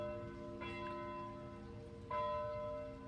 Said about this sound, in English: Those are the bells of my church that I pastored.